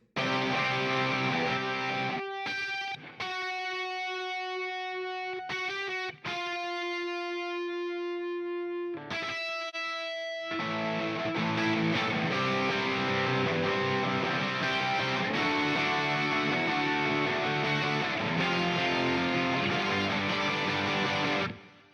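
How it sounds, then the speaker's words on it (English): Distorted electric guitar plays a melody doubled in octaves, starting with sustained notes separated by brief pauses, then continuing denser and steady, loud and close. "I played a guide tone line with the guitar as well, and therefore I played the melody in octaves"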